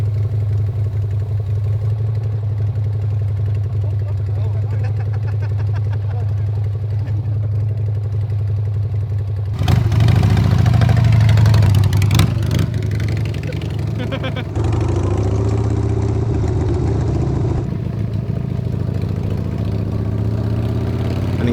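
A custom Harley-Davidson motorcycle engine runs with a low, steady rumble, then swells into a louder revving burst before settling into a lumpy idle, with a voice heard over parts of it.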